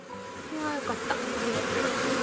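Honeybees of colony A hum steadily and closely throughout an open-hive inspection on a calm day, while the queen lays eggs. The dense buzz has no voices over it.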